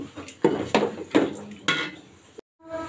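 Meat for tehari, seasoned with ginger and cumin paste, stirred in a cooking pot: four clattering scrapes of a spoon against the metal at a steady pace, followed by a brief silence and faint sizzling.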